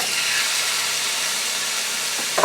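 Chicken thighs frying in olive oil in an unwashed pan, a steady broad sizzle and hiss held evenly throughout, close up, with a small clatter at the very end and no voices.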